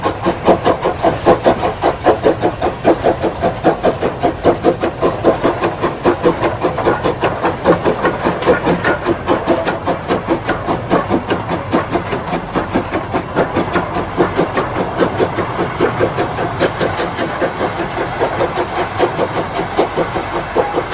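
Peckett steam locomotive on an ironstone railway shunting a rake of empty wagons, with steady rhythmic exhaust chuffs and hiss running loud and continuous throughout, close by and with no talk.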